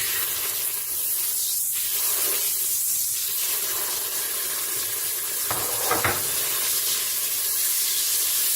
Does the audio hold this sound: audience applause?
no